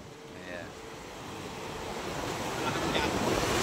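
Sea waves surging and wind blowing at a fishing port, a broad continuous rush that swells louder toward the end, with some faint voices in the background.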